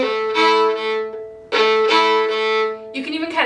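A fiddle plays a traditional Québécois reel variation. Bright bowed notes come in two short phrases, split by a clear gap where one note is left out, before the tune picks up again, close and alone.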